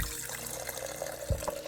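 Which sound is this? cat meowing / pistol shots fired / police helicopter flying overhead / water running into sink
water running into sink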